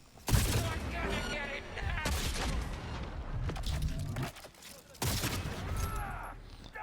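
Three heavy sniper rifle shots in Cyberpunk, each a sharp, booming crack with ringing mechanical echoes between them, spaced a couple of seconds apart, with a voice talking in the gaps.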